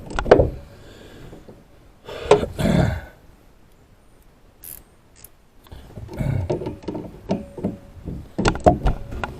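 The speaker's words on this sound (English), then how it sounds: "You hear the vice grips." Vice grips turn on a Monroe shock absorber on a Mustang, giving close, intermittent metallic clicks and grinding bursts separated by quiet gaps.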